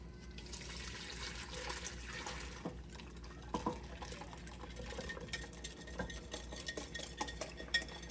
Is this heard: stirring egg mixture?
yes